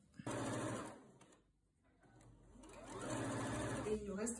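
A sewing machine sews a seam down a fabric storage triangle, leaving a 1 cm margin. Two close, steady bursts of stitching are separated by a short pause.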